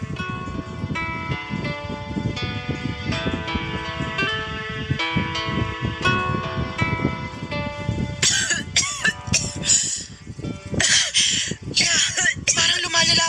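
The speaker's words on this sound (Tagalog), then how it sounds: "Parang lumalala pong ubo niyo ah." Repeated harsh coughing from a person with a worsening cough, sharp bursts heard close and loud over background music in a dramatized scene.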